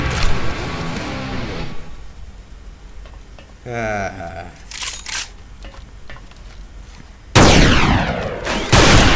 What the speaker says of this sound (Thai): กระสุนมาจากไหนเนี่ย